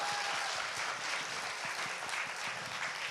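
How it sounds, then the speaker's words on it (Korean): A studio audience applauds on a comedy talk show, a dense, steady wash of clapping that holds at an even level for the whole stretch with no talk over it. "박수 한번 주시죠."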